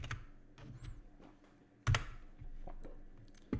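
Computer keyboard typing while a custom event is named in a battery system setup: a run of quick, light key clicks with short pauses and one louder clack midway, close and clear with no talking.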